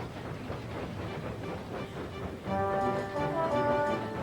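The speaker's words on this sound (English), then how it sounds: "Edward puffed across the countryside." A steam locomotive chuffs along steadily, its rhythmic puffing joined midway by a louder, brighter whistle-like tone over continuous rumble; no one speaks.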